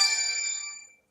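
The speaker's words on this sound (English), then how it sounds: "That was a phone call." An incoming-call phone ringtone plays alone: one bright, chiming burst that starts loud and fades out within about a second.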